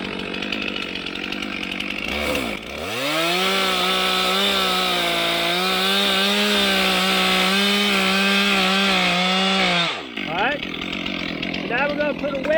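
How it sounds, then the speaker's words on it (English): A chainsaw bogs down and then roars steadily for about seven seconds as it cuts into a tree trunk in a forest, leaving a hinge for felling. It drops back to idle near the end, loud and close. "So now we're going to take the saw, just cut here, leaving 1 inch hinge"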